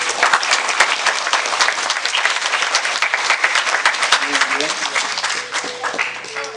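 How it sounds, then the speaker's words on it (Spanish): A church congregation applauds together in sustained, dense clapping that fills the space throughout, with some voices mixed in and the clapping thinning slightly toward the end. "Un aplauso al Señor Jesucristo."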